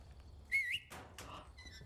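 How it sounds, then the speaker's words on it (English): In the video game Resident Evil 4 Remake, Leon gives a single short rising-and-falling whistle to call Ashley, followed by faint shuffling and breath sounds. "Does the whistle."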